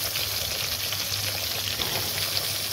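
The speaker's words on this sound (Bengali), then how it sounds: "কড়াইতে এক এক করে দিয়ে দিলাম বেগুনগুলোকে এখন এক এক করে চলে আসছে কড়াইয়ের মধ্যে" Eggplant slices frying in oil in a wok, a steady close hissing sizzle with faint crackles, continuous and even throughout.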